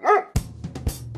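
A Doberman barks on command, giving two sharp, loud barks at close range, preceded by a brief high whine.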